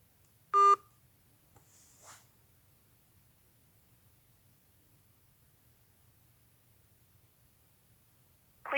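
A telephone keypad produces a short burst of dialing tones during a redial to the City of Zanesville, followed by long near-silence and a faint rustle, then another tone at the very end.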